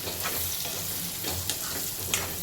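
Small onions frying in oil for egg pulusu make a faint, even sizzle with a few soft stirring taps.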